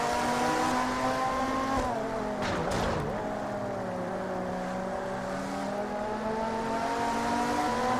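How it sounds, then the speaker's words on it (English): Panoz race car engine in the Total Immersion Racing video game, a loud continuous high-revving drone whose pitch briefly dips and then climbs again, running steadily throughout. "That car up there, that Panaz just has such a great sound to it."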